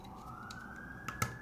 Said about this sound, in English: why are there so many sirens?